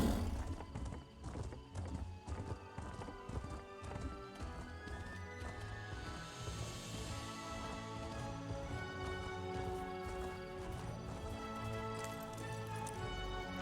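Horse hooves clip-clop in a steady trotting rhythm in Elder Scrolls Online, close and clear, with occasional whinnies and a music-like tonal bed underneath.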